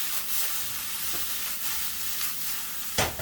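Pork and vegetables sizzle hard in a hot wok while cooking Hong Kong style chow mein, a steady close hiss throughout with a sharp clatter of stirring near the end.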